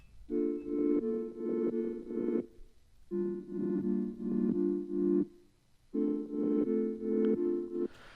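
A buzzy synth plays short off-beat chord stabs in an off-kilter rhythm, grouped into three repeating phrases separated by brief pauses, from a future bass and trap track.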